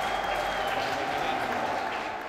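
Prisoners greet 88-year-old Pope Francis with steady, continuous applause from a crowd, sustained throughout at a moderate level.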